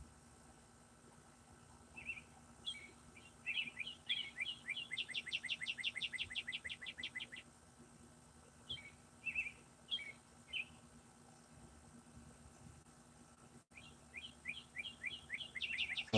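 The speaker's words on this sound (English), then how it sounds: "You hear that bird?" A bird sings in a tree with bursts of rapid chirping trills, separated by pauses, faint against a steady background hum with no talking.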